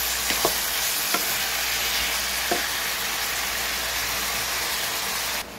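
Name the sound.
sautéing lamb until golden brown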